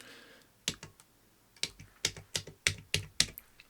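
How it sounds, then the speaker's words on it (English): Clicky buttons on an NDLR device pressed one after another: around nine crisp, close clicks, sparse at first, then in a quicker, fairly even run, with no talking. "Nice clicky buttons."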